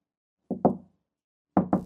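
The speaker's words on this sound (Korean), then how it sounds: "누군가 대문을 노크하고 있다는 걸 알게 되니 정말 무서웠어요" Knocking on a front door, set in a horror story: two quick double knocks, close and sharp, with a short silence between the pairs and nothing else around them.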